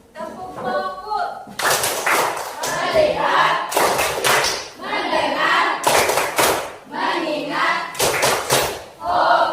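A classroom of students performs a rhythmic focus clap, bursts of claps in patterned groups alternating with a teacher's voice and group chanting, close and loud throughout.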